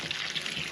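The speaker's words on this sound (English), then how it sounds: "I'm just going to water it so that when I drop my peas in" Water poured onto dug, raked allotment soil before sowing peas in September, a steady soft trickling splash running through the short moment at moderate level.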